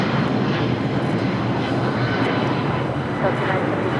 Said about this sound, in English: American Airlines 1994 taking off to Dallas Fort Worth on a 777-200ER